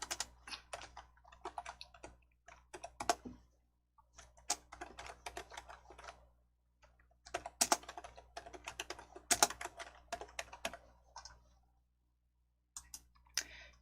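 Bursts of typing and key clicks on a computer keyboard while setting font size and formatting in a Hangul word processor, coming in irregular clusters separated by short pauses, close and fairly quiet, with no talking.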